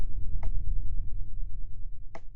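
Two sharp cracking clicks in the horror video game SCP Containment Breach, spaced a couple of seconds apart over a low rumbling ambient drone, with no voices.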